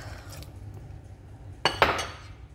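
A spoon scrapes and clinks against a bowl while sugar is stirred into banana bread batter, with two sharp bursts of clattering mixing near the end after a quiet stretch.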